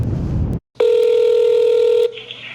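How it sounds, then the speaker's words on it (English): A telephone call goes out to a clothing store in Rochester: a burst of noise, a brief silence, then a loud steady electronic tone that gives way to a fainter ringback tone. "An employee was there to pick up the phone this afternoon at Ragstock in Rochester."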